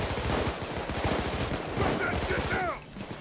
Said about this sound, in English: Give some covering fire.